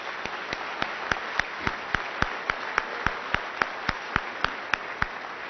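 A chamber of commerce audience at a 2017 awards event applauds steadily, a dense wash of clapping with one sharp, evenly spaced nearby clapper beating through it for the whole stretch.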